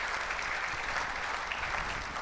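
Steady applause from a church congregation at a Vida Nueva para el Mundo service in Acapulco, a dense, even clatter of many hands that holds at a constant level for the full stretch with no voices over it.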